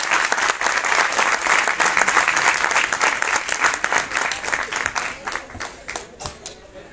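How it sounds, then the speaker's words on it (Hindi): Loud, dense audience clapping welcoming a speaker to the stage at a tribal science festival in Uttarakhand, sustained applause that gradually thins and fades toward the end. "जोरदार ताली से स्वागत है।"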